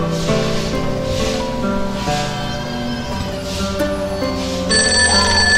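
A telephone rings repeatedly in a steady, loud ringback pattern during a call being placed, with no one speaking over it.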